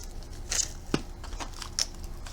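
Scissors snip beads off a strand in a few quiet, separate clicks and crisp cuts close by.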